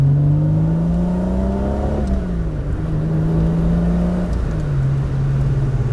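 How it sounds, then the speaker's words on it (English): A Honda V6 engine swapped into a Mazda Miata revs and pulls hard, its pitch climbing and dropping between gear changes, loud and close throughout with no talking. "The car is just so much faster now. It sounds so much better."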